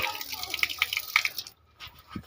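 Water dripping from a newly fitted tap, a handful of small, evenly spaced drops close by over a quiet background, ending with a brief pause.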